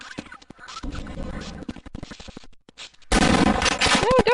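Half-Life video game gunfire rings out in rapid sharp reports, sparse at first and then a denser, louder burst of shots near the end, mixed with game effects.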